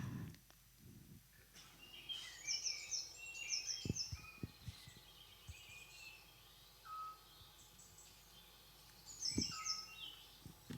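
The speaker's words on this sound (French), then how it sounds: "vous allez entendre une petite mésange et un hibou petit duc" A small tit and a scops owl calling in a recording, with high thin chirps repeating in short bursts, a soft fluted owl note, and faint scattered background clicks throughout.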